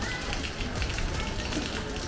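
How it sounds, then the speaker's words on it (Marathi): Heavy monsoon rain falling outdoors around a house courtyard, a dense steady hiss of drops on surfaces, with a person talking faintly over it. "काय बाबा मस्त वाटतं ना, पाऊस पडतोय."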